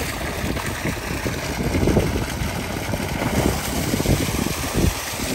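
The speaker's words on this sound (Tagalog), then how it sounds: "2 horsepower yata ang nakalubog na water pump." A submerged 2-horsepower water pump running at an earth pond, a steady churning hum mixed with rushing water and a touch of wind noise, continuous and fairly close, with no talking.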